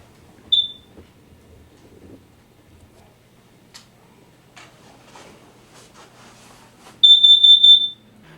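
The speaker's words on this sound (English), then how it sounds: "You should press and hold the test button to make sure you hear the loud audible warning." A smoke alarm test produces a loud, piercing electronic beep near the end, preceded by a brief short chirp and quiet room sounds.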